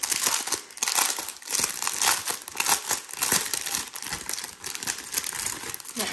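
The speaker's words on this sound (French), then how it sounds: "Je suis vraiment désolée pour tous les bruits de plastique." Plastic packaging crinkles and crackles nonstop as a diamond painting kit is unboxed, close and loud, in dense irregular bursts of rustling.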